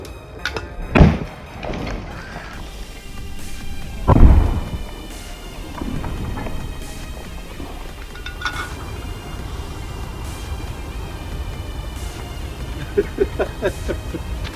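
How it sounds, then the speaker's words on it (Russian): Atas TKP302 firecrackers bursting in a glass jar outdoors, two loud sharp bangs a few seconds apart followed by rumbling, crackling debris and faint clinks, with smaller pops near the end. "Петарды «Атас»."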